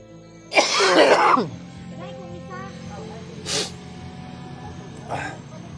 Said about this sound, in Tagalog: yung ubo ko